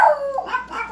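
A beagle lets out a single loud, close, drawn-out baying bark that falls in pitch and then rises again, heard on its own.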